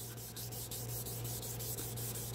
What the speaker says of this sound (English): I'm going to wet sand it.